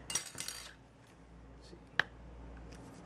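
A metal utensil pokes and taps at the tough seal of a two-year-expired Hormel meal tray: a few clicks at first, then one sharp crisp poke after a quiet pause.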